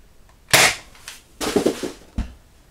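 A Nerf Rival Knockout XX-100 foam ball blaster being primed and fired indoors: a sharp loud snap, then a longer mechanical pumping clatter and another short crack, each separated by quiet.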